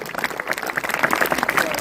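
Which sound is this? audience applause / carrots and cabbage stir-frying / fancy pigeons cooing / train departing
audience applause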